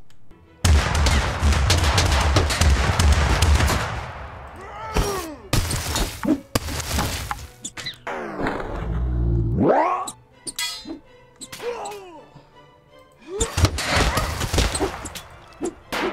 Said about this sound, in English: the scout from Deep Rock Galactic is shooting the boss and goes in with the pickaxe